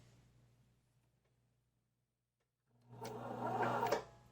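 Husqvarna Viking 2000 sewing machine with 18 gauge leather needles stitching leather, starting up after a quiet pause into a short mechanical whirring run close by, with a sharp clunk near the end.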